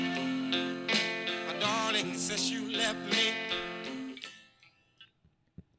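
A soul recording in the Atco record version, played back at moderate volume with voice and band, fading to near silence with a few faint ticks at the end.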